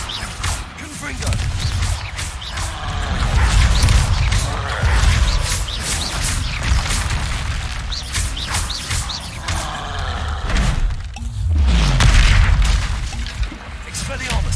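In Hogwarts Legacy, Confringo blasting spells go off in repeated loud, booming explosions with crackling debris. Spell names are called out between the blasts, which come amid a dense, chaotic battle din.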